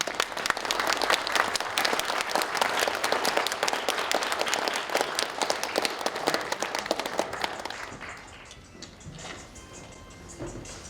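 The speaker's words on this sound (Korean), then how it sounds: "여러분 박수를 좀 부탁드립니다" An audience at a Korean academic book presentation gives steady, dense applause for several seconds, then it thins out and fades near the end, heard from within the hall.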